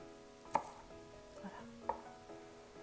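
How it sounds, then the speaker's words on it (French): A kitchen knife cuts food into quarters on a board for Japanese mushroom rice, with two sharp, distinct chops against a quiet background and no talking. "Je coupe en 4, à peu près un peu plus que 2 cm."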